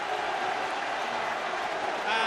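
A stadium crowd rises and applauds Italy's first Six Nations try, scored by Gianpiero De Carli. A broad, steady roar of clapping and cheering fills the whole stretch and swells slightly at the end.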